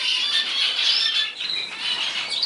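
Small zebra finches and parrot finches in an aviary give a continuous chorus of high, thin chirps and squeaky calls, with faint wing flutters, moderately close and without talk.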